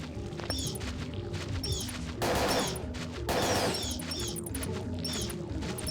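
Rapid gunfire in the video game Parasite Eve 2, a steady mix of repeated shots with two louder crashing bursts over game music, no speech.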